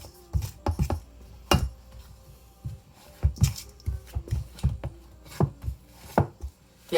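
Butter being mashed into a crumbly flour mixture, heard as irregular dull thumps and scrapes of a utensil against a bowl, close and uneven in rhythm, with short pauses between strokes.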